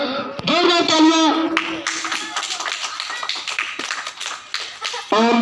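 An audience claps at an outdoor public festival event in Delhi. A brief voice comes first, then a steady spread of many hands clapping fills the middle, and speech returns at the end.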